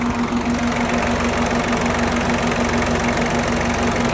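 A Peugeot 205 engine idles steadily with its large cooling fans running, a constant loud hum and whir with an even low pulse that holds for the whole stretch, with no talking.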